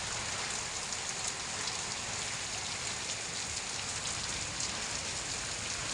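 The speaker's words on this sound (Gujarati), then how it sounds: "અહીંયા વરસાદ બી ચાલુ થઈ ગયો છે।" Steady rain falls evenly, a constant hiss of drops on surfaces with no breaks or other sounds.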